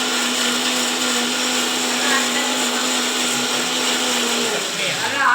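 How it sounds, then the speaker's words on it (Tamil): Mixer grinder running close and loud as it blends cooked tomatoes into a chutney, a steady whining motor hum with a constant pitch that dips and wavers near the end as the load shifts. "இப்போ வந்து இதை அரைச்சிக்கலான்ட்டு மிக்சியில் போட்டிருக்கேன்"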